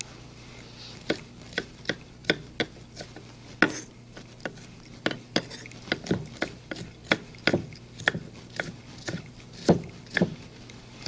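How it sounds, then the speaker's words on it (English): An onion is chopped on a board with a knife, producing a steady run of crisp, evenly spaced close thumps, about two per second, loud and clear with no talking. "now we got the onion chopped up"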